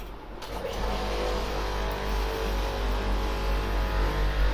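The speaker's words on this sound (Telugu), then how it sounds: "ఇవి మొత్తం స్టిచ్చింగ్ మిషన్స్" Several Juki interlock stitching machines run together in a garment workshop, making a steady, loud mechanical whir and drone that holds unbroken throughout, with no voices.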